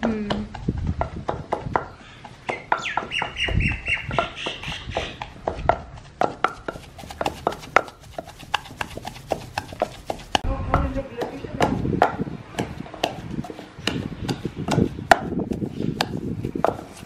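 Mutton koftas being pounded in a chattu, a steady run of sharp wooden thuds and knocks in an irregular rhythm, close and fairly loud, with a few faint background voices.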